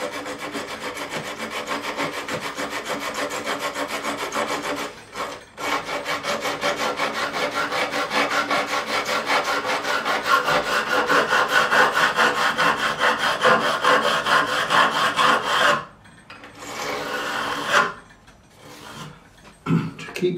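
A metal file rasps steadily back and forth across the fret ends of an Ibanez Roadstar II RG200 guitar neck to cut a bevel during a refret, close and loud, with a few short pauses near the end and no talking.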